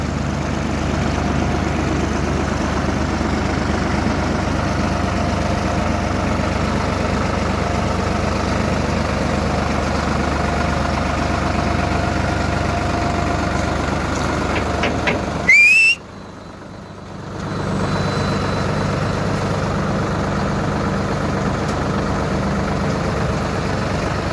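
A Solis 50 tractor with a cab, reverser, 12+12 gearbox and air conditioning idles nearby with a steady, droning engine hum and a faint whine. The sound cuts out briefly around the middle, then the hum resumes.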